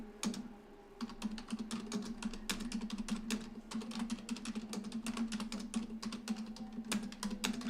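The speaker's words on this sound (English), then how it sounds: "I'm sorry, I'm just typing so quick." Rapid typing on a computer keyboard: a quick, dense run of crisp key clicks with short pauses, close and fairly quiet over a faint steady hum, with no talking.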